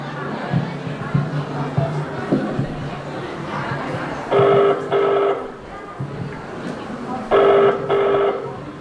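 A telephone rings twice, each ring a pair of bright electronic trills, over a background of crowd chatter and speech.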